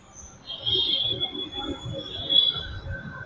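A small ride-on train rolling through a garden, rumbling along with a high, sustained wheel squeal rising and fading twice, heard moderately close amid faint background voices.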